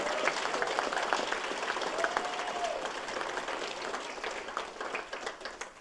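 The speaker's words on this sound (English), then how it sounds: "Let's give everyone a huge round of applause." A crowd at an honor roll ceremony applauds steadily, a dense wash of clapping that stays even at first and then thins toward the end, with a few voices mixed in.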